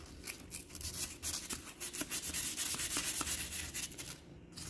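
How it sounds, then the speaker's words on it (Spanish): Rough, rhythmic rasping of sandpaper rubbed back and forth across copper, close up and steady, with no talking. "papel de lija."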